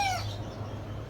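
A caged backyard chicken gives a short, close call that rises at the very start, then fades into a steady low hum, all within about a second.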